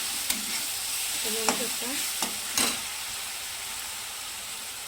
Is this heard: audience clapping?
no